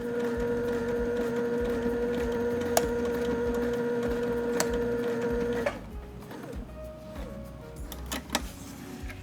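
A sewing machine runs steadily along a fabric fold, a continuous mechanical whir with rhythmic ticking, then stops partway through, leaving quieter handling clicks and faint room noise.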